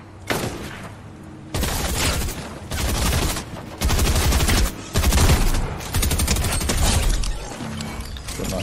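Shotgun fire in Fortnite, loud bursts of blasts arriving in several distinct chunks separated by short quieter gaps, close and punchy with game noise between them.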